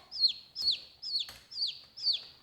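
Newly arrived hatchery baby chicks peep close by, five evenly spaced high, thin chirps in a steady rhythm with light rustling underneath.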